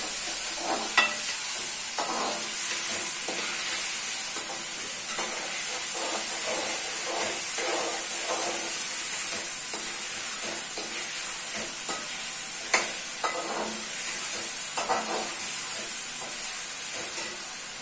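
Potato pieces frying in hot oil in a pan, a steady sizzling hiss throughout with repeated scraping stirs of a spoon, made for a capsicum and potato dish.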